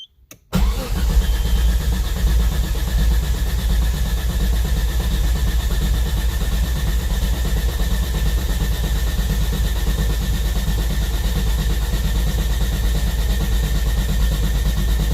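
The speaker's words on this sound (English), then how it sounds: "let's go ahead and crank the engine." A Nissan R32 Skyline with an RB25DE turbo conversion turns over after a brief crank and settles into a steady, loud idle that runs on unbroken.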